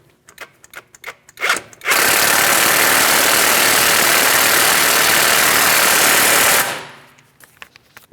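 A power tool runs the bolts up snug on a Chevrolet Malibu front CV axle assembly, a loud continuous whirring burst of about five seconds, with clanks and handling noises before and after it.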